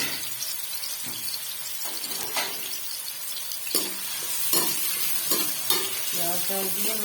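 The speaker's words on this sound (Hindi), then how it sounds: "घी हमारा गर्म हो चुका है, तो हम यहाँ पे डालेंगे इसमें प्याज।" Onions sizzle in hot ghee for chicken biryani, a close, steady frying crackle broken by scraping stirs and clinks that grow busier toward the end.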